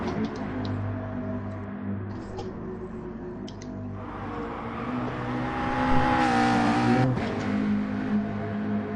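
A GT3 race car in a video game at Dragon Trail Seaside, its engine a steady droning hum with tonal harmonics that swells and rises in pitch as it accelerates midway.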